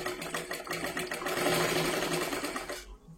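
A sewing machine running continuously while stitching tucks into a size 36 blouse, a close, steady rapid buzz that stops abruptly at the end, with no talk.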